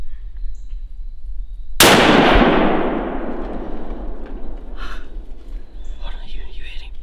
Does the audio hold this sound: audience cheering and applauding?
no